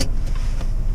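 A diesel Peugeot Partner L2 van loaded with over 500 kg pulls away, with a steady low engine drone and road rumble running loud and close throughout, without speech.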